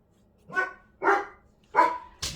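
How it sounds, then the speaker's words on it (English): A dog barks outside in four separate, evenly spaced barks, moderately loud and slightly distant, with a quiet room behind it and no talking. "there's a dog outside just barking and I really can't pause at this second"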